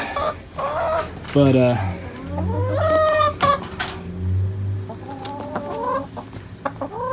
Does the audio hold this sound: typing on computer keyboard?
no